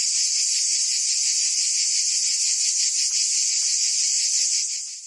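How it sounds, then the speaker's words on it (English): The Treble Health cricket sound for tinnitus therapy plays as a continuous, loud, high-pitched shimmering chirr with a fluctuating, scrubbing texture, holding steady alone before fading slightly at the very end. "Our cricket sound here, it's more high frequency noise, fluctuating and shifting, kind of has this scrubbing element"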